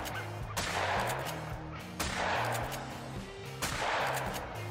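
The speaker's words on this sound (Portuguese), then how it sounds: "Vamos atirar aqui primeiro." Three loud gunshots at even intervals ring out while hunting ducks in The Hunter: Call of the Wild, each followed by a reverberating tail.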